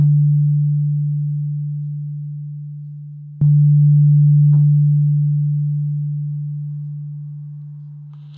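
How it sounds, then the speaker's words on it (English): A pure, sine-like synth note sustains and slowly fades, is struck again with a sharp click, and then lingers through a long release, dying away gradually; loud and close, with no talking. "whenever I release my finger, the sound still kind of lingers on. It's still fading away"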